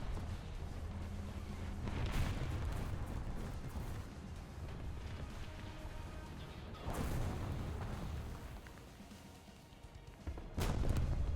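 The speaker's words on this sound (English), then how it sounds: "And we're still being shelled." Distant artillery shelling rumbles through a video game battle, heavy booms landing every few seconds over a continuous low roar of combat.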